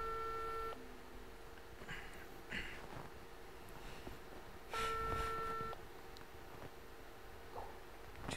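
Telephone keypad dialing tones during a phone call, two short bursts of paired beeps, the first at the start and a second a few seconds later, over a steady background hum.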